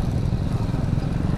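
A BMW 310 GS adventure motorcycle rides past on a rough mountain road near Pangong Lake. Its engine gives a loud, close, steady low rumble with a little clatter, and no one talks.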